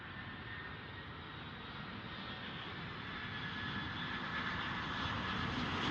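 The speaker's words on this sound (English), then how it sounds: "British Airways A320 is now lining up on the runway." A British Airways Airbus A320 jet lining up on the runway at Dublin Airport, its engines giving a steady broad roar that slowly builds in loudness, heard alone without talk.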